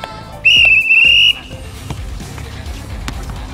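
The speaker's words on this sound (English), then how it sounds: "go ahead on the whistle" A loud referee whistle opens a one-on-one soccer tennis match outdoors, a single sharp blast of under a second. Ball thuds and scuffs follow, with faint talk underneath.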